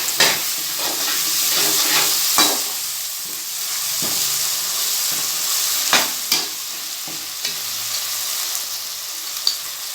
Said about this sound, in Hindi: ये हमने जो लहसुन अदरक का पेस्ट किया था वो हमने डाल दिया